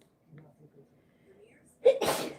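A single sharp human sneeze bursts out loud and close, following a stretch of quiet, low murmuring.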